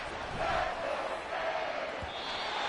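A football stadium crowd roars continuously during a game, a dense, loud wash of cheering and shouting that stays sustained and distant-sounding throughout.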